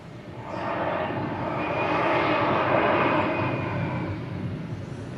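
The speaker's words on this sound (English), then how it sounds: "here comes the A320 to San Antonio." An Airbus A320 airliner comes in to land on the northernmost runway at Hartsfield-Jackson Atlanta airport, a steady broad engine roar that swells and holds for several seconds at moderate distance, with no talk over it.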